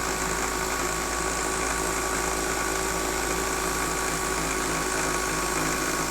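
A car alternator driven as a DIY brushless electric motor runs flat out at top speed, giving a loud, steady high-pitched electric whine with a buzzy hum that holds unchanged throughout.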